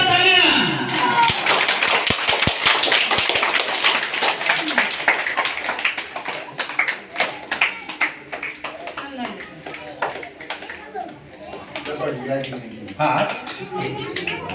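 Scattered hand claps and taps ring out at an outdoor Ambedkar Jayanti gathering in Kannauj, near a newly unveiled statue. Bursts of clapping continue under frequent talking, some close and sharp, others softer.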